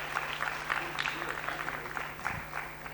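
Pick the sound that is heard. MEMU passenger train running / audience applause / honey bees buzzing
audience applause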